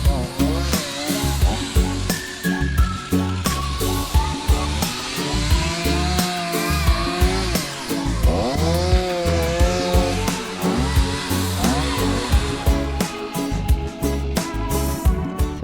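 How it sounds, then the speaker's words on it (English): Chainsaw cutting sauna firewood into shorter pieces outdoors, the engine droning loud and close and bogging in rhythmic cycles as each cut goes through, under faint talk. "Mark's using the chainsaw to cut them down to shorter pieces"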